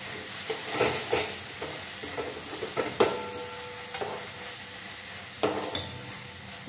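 A fenugreek mixture for methi varanphal is stirred and sautéed in a pan, giving a soft sizzle with repeated scraping and clinking strokes of a spatula against the metal, close and moderately quiet.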